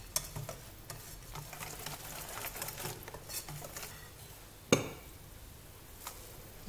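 A fork stirs 500 grams of flour for beignet dough in a bowl, giving soft, close scraping and pattering that runs steadily, with one sharper knock partway through.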